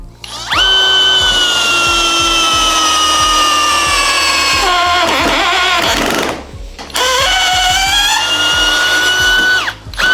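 A SKIL DL6300D-11 cordless flip drill whines loudly for several seconds as it drives a large screw on clutch setting 9, straining and slowing near the end, then a second shorter burst.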